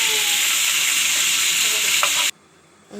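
Fish pieces fry in hot oil in a pan for masala fish curry, a loud, continuous sizzle that cuts off abruptly near the end before a faint hiss returns.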